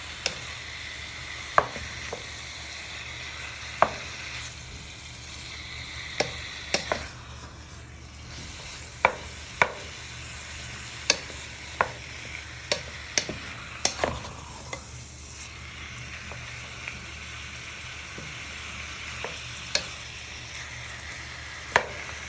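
Beef sizzles steadily in a frying pan for beef stroganoff while a utensil stirs and tosses it, sharp scraping clicks recurring irregularly over the continuous hiss, close and with no talking.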